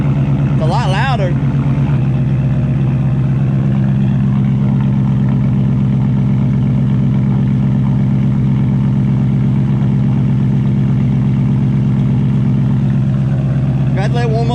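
Deep, loud, steady idle from a 2020 Coyote V8 fitted with a Corsa exhaust, droning close and unbroken throughout with a low rumbling tone.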